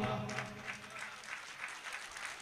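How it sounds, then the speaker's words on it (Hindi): Applause from the audience at an All India mushaira poetry recital, a steady wash of many hands clapping, fairly soft and evenly sustained, with a voice briefly heard at the start. "तालियां कमजोर है"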